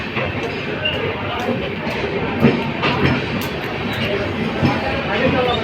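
Inside a train on the Durg to Kalyan route, passengers settle in amid a constant rumble and rattle of the carriage. Chatter and voices mix with occasional knocks and bumps close by.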